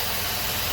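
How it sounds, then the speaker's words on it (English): A 3.7-liter V6 car engine with a vacuum leak runs at idle under the open hood, a steady close hiss and hum filling the whole short moment with no voices. "Y'all hear that vacuum leak?"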